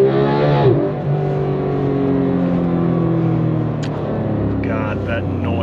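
A 2015 Porsche 911 GT3 launches from a standstill, its engine roaring loud and close and rising sharply in pitch before settling into a sustained high-revving drone, with some talking.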